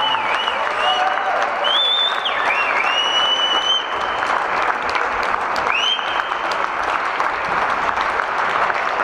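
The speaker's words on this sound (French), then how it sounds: "Allez, les applaudissements pour le club breton." Applause for the Capbreton club at an under-18 girls' handball match against Biscarrosse fills the hall, a steady crowd clapping with cheers and shrill whistles layered over it.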